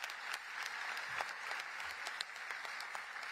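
Brief applause from a conference audience at an opening session, a steady patter of clapping hands at moderate distance, fairly quiet and even throughout.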